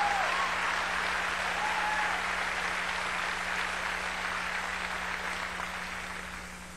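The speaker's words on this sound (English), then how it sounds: "I don't know why you're clapping." Steady applause from a church congregation after a sermon, a broad even wash of clapping that carries on and gradually tapers toward the end, with no speech over it.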